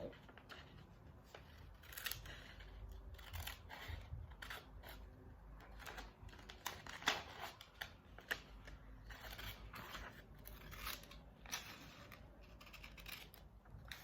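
Scissors cut through plain scrap paper with a quiet, irregular series of crisp snips and rustles, close by and faint, continuing for several seconds.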